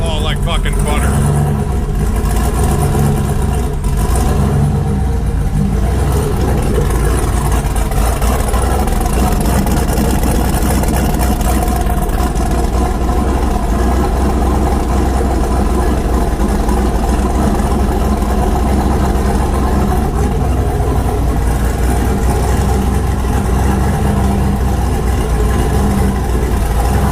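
A warm Mustang engine fires up and settles into a loud, steady, rumbling idle, heard close for the whole stretch, with people talking over it now and then.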